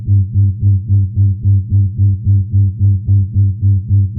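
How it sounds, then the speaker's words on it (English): A sonified pulsating star sounds as a single low synthetic tone that swells and fades in a steady rhythm, about three pulses per second, clean and alone. "So it's sort of one tone, but it oscillates an amplitude."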